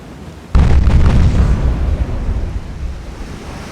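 A full naval broadside booms out from warship guns in the game Ultimate Admiral: Dreadnoughts, one heavy loud blast followed by a rolling, rumbling tail that slowly fades.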